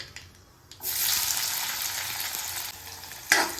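Onion dropped into hot oil with mustard seeds, bursting into a loud, steady close sizzle after a quieter start, with a brief clatter near the end; no talking.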